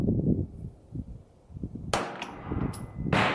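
A CZ Shadow 2 pistol fires at an outdoor range, two sharp close shots about a second apart, each with a brief ringing tail, over low rumbling background noise.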